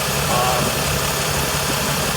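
A restored 1984 Jeep CJ7 with a standard 6-cylinder engine and full stainless steel exhaust idles steadily up close, a smooth continuous rumble with no talking.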